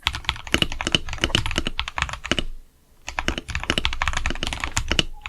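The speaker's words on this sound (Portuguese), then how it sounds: "Aqui eu estou usando os switches Acu CS Silver e esse é o som desse teclado." Typing on an Akko 5075B Plus mechanical keyboard fitted with Akko CS Silver switches: rapid, close, clacky keystrokes in quick bursts, a brief pause midway, then steady typing resumes.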